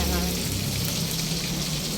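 Steady, dense sizzling of matambaka fish (tamarong) frying in hot oil, loud and close, a continuous crackle with no break.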